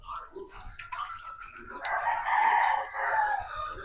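Chickens and a rooster sound in the background of a morning at home, a rising crow swelling midway and trailing off, fairly distant and mixed with faint clucking.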